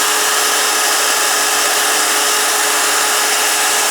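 A power saw cuts a slot into a wooden walking stick with repeated offset passes, producing a loud, steady, close buzzing cut that ends abruptly after about four seconds, with no talking.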